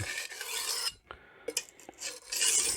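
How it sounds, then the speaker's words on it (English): Chef's knife in Magnacut steel drawn across a Norton Crystolon sharpening stone, giving a steady abrasive rasp in several strokes with short pauses between, close and fairly loud. "And then when I start sharpening, I can adjust quickly. If I feel it biting in the stone a little too much, I'll back it off."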